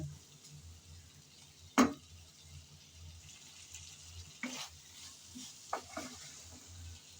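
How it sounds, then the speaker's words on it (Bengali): Potatoes being stirred and fried in a pan with little oil, faint steady sizzle broken by one sharp metallic scrape and a few softer stirring strokes, quiet and close. "কিছুক্ষণ তো নেড়ে চেড়ে আলুটাকে কষিয়ে নিলাম"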